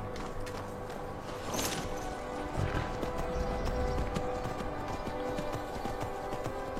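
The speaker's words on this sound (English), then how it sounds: "Where did my horse run off to?" Hooves clip-clop steadily as a horse walks in the video game Skyrim, with a whinny partway through, over faint ambient sound.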